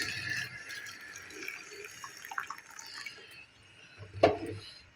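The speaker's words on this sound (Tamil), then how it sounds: "நல்லா கொதித்து தண்ணியை இதில் ஊற்றிக்கோங்க" Boiling water poured over vermicelli in a kitchen, quiet splashing and trickling with a few drips, ending in a sharper splash near the close, soft and close with no talk.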